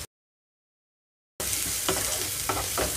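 Ginger garlic paste with turmeric frying in a pan for beetroot kurma, a bright steady sizzle after a silent opening, with a few close scrapes of stirring.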